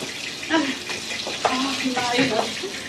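Water runs steadily from an indoor tap, a continuous broadband rush, with a voice sounding faintly over it at moments.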